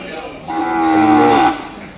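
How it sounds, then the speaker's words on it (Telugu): An Ongole bull calf at the Kodada cattle market gives one loud, drawn-out moo lasting about a second, close to the microphone, with faint background noise before and after. "ఈ దూడ చూడండి"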